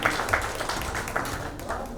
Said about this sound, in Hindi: जोरदार ताली काजल जी के लिए।